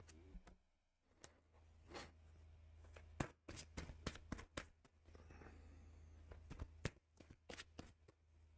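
Tarot cards being shuffled by hand, quiet riffling and slapping bursts with soft rustles in between, close and alone with no talk.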